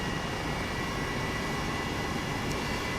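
An Airbus H135 police helicopter in a flight simulator game gives a steady, unbroken engine and rotor drone, constant in level and fairly faint, with no voices.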